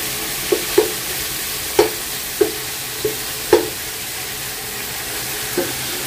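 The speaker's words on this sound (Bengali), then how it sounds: "আদা আর রসুনটা একটু ব্রাউন হয়ে আসছে, তারপরে হচ্ছে যে চিকেনটা দিয়ে দিলাম।" Chicken marinated in ginger-garlic paste, soy sauce and black pepper fries in a pan with browning ginger and garlic. A close, steady sizzle is broken by about seven sharp spatula knocks and scrapes at irregular intervals.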